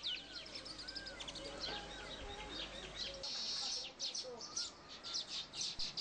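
Baya weaver birds chirping outdoors, a busy chorus of high, rapid tweets and trills that overlap continuously at moderate loudness, with no talk.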